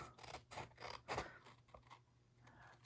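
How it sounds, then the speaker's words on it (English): Snips trim glued paper card for a criss-cross fun-fold card, giving several close, crisp cutting snaps in quick succession over the first second, then quieter rustling of the card. "I'm going to take my snips and do a little trimming."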